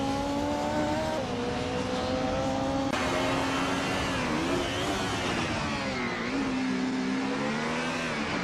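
Retro DTM race cars, among them a 1996 Opel Calibra, in a racing video game: a loud, continuous engine whine with rising and falling revs and gear shifts as several cars charge along, no talk.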